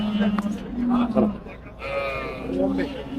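Sheep bleating at a Turkish livestock market selling sacrificial animals, with several wavering bleats close by under someone talking and general market bustle.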